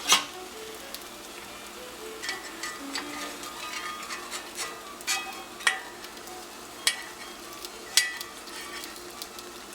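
A tortilla cooks in a pan greased with a little Crisco over medium heat, giving a soft steady sizzle with scattered clinks and scrapes of a utensil against the pan.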